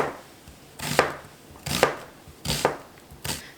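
A kitchen knife slices the tops off tight garlic heads for roasting: four crisp, evenly spaced chops on a cutting board, close and clear, with no talking.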